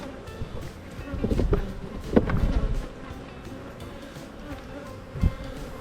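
Honeybees hum around an open beehive during a spring inspection as a frame of nectar-filled cells is examined, a steady drone with brief louder swells as bees pass close, without talk.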